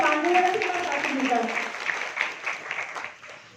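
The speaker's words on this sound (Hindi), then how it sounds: "इसके लिए जोरदार तालियों से स्वागत करिए।" Audience applause welcoming a speaker at a women's wing gathering of a club in Kanpur, a brief voice at the start giving way to a sustained, dense clapping texture that slowly fades.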